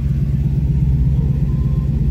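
A car engine idles steadily with a deep, throbbing rumble, close by and loud, with no voices.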